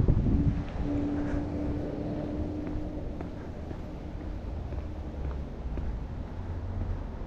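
Steady wind blowing across a microphone during an outdoor walk, a continuous low rumbling roar with gusty texture that stays loud throughout, no speech over it.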